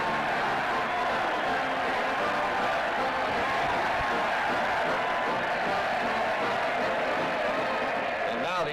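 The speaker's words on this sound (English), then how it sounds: "The roar of the crowd signifies that the Owens team is now coming out on the field." A football stadium crowd roars as a college team takes the field, a broad sustained rumble of cheering voices that holds steady at full level from start to finish, with a voice talking over it.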